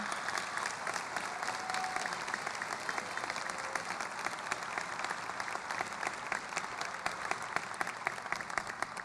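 A school audience gives the staff a long, dense round of applause, steady and fairly loud with no break.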